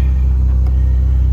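A warmed-up 1967 Austin Healey 3000 MkIII engine idles with the choke off, a loud, steady low rumble close by with a slight even pulse and no talk.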